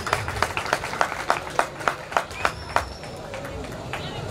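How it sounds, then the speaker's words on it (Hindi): Audience at a Sant Nenuram mela utsav in Ahmedabad clapping in a regular rhythmic beat for a guest called to the stage, sharp evenly spaced claps over crowd murmur that fade into general hubbub toward the end. "राम भीमाणी जी के लिए तालियां बजाइए प्लीज"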